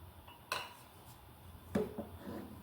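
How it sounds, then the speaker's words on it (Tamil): A spoon stirs custard into milk in a pot, giving two distinct metallic clinks against the pan over a low, steady background of quiet scraping, with no talking. "இப்போ நம்ம கை விடாமல் கிண்டிக்கிட்டே இருக்கணும்"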